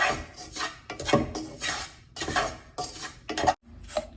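Fine semolina being stirred and roasted in a pan for kheer, with repeated scraping and rubbing strokes of a utensil against the metal pan, close and fairly loud in irregular bursts with short pauses.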